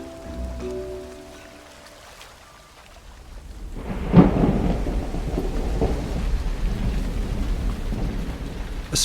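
Spring downpour over an island, with a low tonal hum fading out early before a deep crack of thunder rolls in. Heavy, steady rain then keeps hissing on the ground close by.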